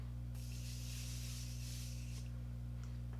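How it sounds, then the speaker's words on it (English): Morphe Continuous Setting Spray in the matte version is sprayed as a soft, continuous hissing mist for nearly two seconds. A few faint clicks follow, all over a steady low electrical hum. "To set this, I'm going to go in with some Morphe Continuous Setting Spray in the matte version."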